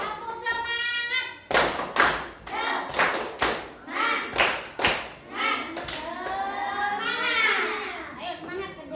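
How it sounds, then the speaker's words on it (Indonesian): A class of children claps a rhythmic patterned cheer in a classroom, loud sharp hand claps in groups with children's voices chanting and talking throughout. "Tepuk semangat."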